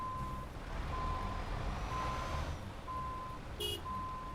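Truck reversing alarm in a truck driving video game, a steady series of high pulsed beeps over a low engine rumble, with a brief higher chime near the end.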